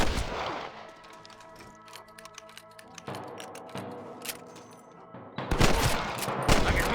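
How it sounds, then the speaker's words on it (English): Sharp bursts of gunfire in Red Dead Redemption crack out in quick clusters, separated by brief lulls, with a heavier volley near the end. "I can hear more gunshots."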